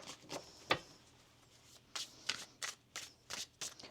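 Tarot cards are shuffled in a series of quick riffling bursts, close and crisp, with short gaps between the shuffles and no voice over them.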